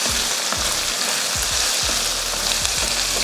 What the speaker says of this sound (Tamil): இப்போ இதில் வெண்டைக்காய் போட்டு வதக்கி எடுத்துக்கலாம்